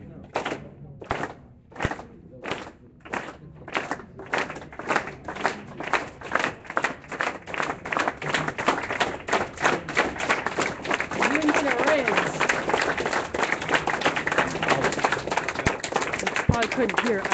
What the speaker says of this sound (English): Everybody, unity clap.